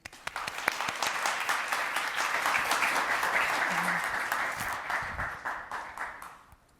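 Audience applause welcoming a lecturer at an International Women's Day lecture, steady clapping from a moderate crowd rising quickly and holding for several seconds before thinning out.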